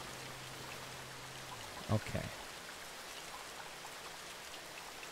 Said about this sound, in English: it sounds like it's raining indoors and it's driving me crazy.